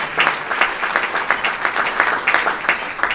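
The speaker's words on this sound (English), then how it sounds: "Give Elliot another round of applause for the great work he does for you" Banquet crowd at a county Democratic dinner applauding, a steady wash of clapping with irregular bursts, fairly close and moderately loud, no voices standing out.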